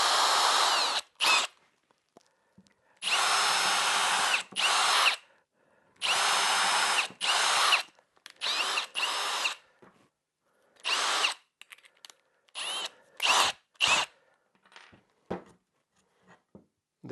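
A power drill pre-drills a hole into wood in a series of sharp, high-pitched bursts separated by silences, short stop-start runs up close with brief clicks between them.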